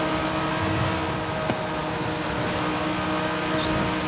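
An '08 BMW M3 engine in Forza Horizon 5 drones steadily as it accelerates on wet pavement, a continuous broadband roar holding even throughout with a faint tick in the middle.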